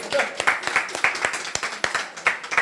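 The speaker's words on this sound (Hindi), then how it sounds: "ये ताली बजा दो ताई जी कह रही है" Steady, rhythmic hand clapping for an elderly woman at a free knee and joint pain treatment session, about a dozen crisp claps in quick succession with voices talking over them.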